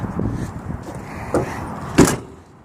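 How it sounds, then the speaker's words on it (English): A 2008 Dodge Caravan wheelchair van with high miles: its spring-assisted ramp clunks as it folds up, followed by a single loud door slam near the end, with faint rattles before it. "Give the door a slam and you're ready to go."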